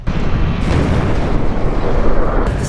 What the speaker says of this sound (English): the self-destruct sequence begins, and explosions erupt throughout the Achilles at once